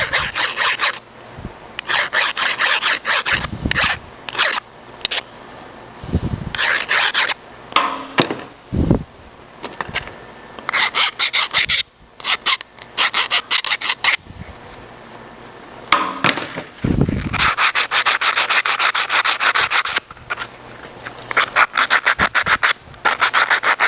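Deburring the edge of a metal patch panel, with bursts of rasping, filing strokes in uneven runs and short pauses, close and fairly loud throughout.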